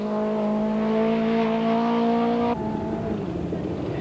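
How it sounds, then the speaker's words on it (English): A 1991 Nissan Sentra rally car powers along a rally stage, its engine holding a steady high-pitched drone that drops abruptly to a rougher, lower note partway through, loud and close with no talk. "de Waal continues to power the Sentra through the stages"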